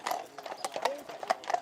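Horses of the British Army clip-clop during a drill rehearsal, a quick irregular run of hoof strikes close by, with a whinny and faint talk mixed underneath.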